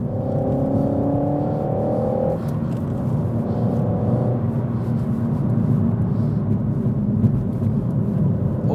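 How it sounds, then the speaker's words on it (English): RenaultSport Megane 280 Cup switched into race mode, with a loud, steady engine and road rumble heard from inside the cabin and a higher tone that fades after a couple of seconds. "Oh, the car's a little bit louder."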